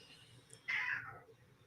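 A house cat meows once to be let out, a single clear, moderately close cry that rises and trails off in an otherwise quiet room.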